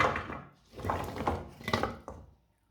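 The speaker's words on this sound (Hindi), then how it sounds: "कटे हुए आलू डाल लेंगे।" Large pieces of cut potato drop into a cooking pot, a cluster of knocking, clattering thuds over about two seconds that fade to silence, with no talking.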